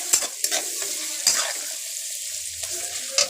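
Onions sizzle and fry in a pan while ginger-garlic paste waits to go in, with brief stirring clatters and scrapes punctuating a steady hiss; nearby and moderately loud, no voices.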